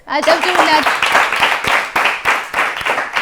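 Children's TV show studio audience clapping in steady applause after a young contestant says she wants to become Ethiopia's prime minister, with a host's voice talking over the start.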